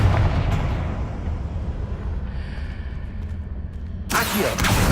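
A Confringo fire spell is cast in Hogwarts Legacy, a loud booming blast amid continuous game rumble, with a sharp, bright burst of impact near the end.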